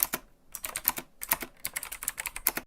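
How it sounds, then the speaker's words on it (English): Typewriter sound effect sample: a rapid, uneven run of crisp mechanical key strikes with short pauses between bursts, close and clear with nothing else around it. "bonus points if you can incorporate this typewriter sound as a percussion instrument"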